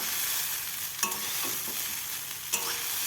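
Pasta sizzles steadily in a pan on a home stove while being stirred, with two sharp scraping knocks as the spoon moves through it, and no voices.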